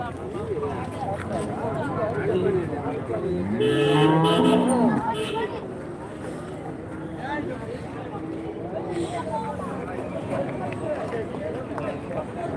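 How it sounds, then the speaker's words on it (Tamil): Jersey cattle low at the Santhipuram Sunday livestock market in Andhra Pradesh, one long, strong moo rising above a busy crowd and voices, with further fainter moos later. "சின்ன மாடாக தான் இருக்கு நல்லா இருக்கு"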